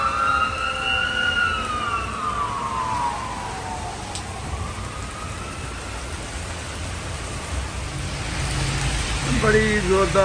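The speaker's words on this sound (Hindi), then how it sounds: "बड़ी ज़ोरदार बारिश हो रही है।" Heavy rain hisses steadily as a broad, constant wash, while a siren wails and slides in pitch nearby, fading, then another siren warbles in near the end.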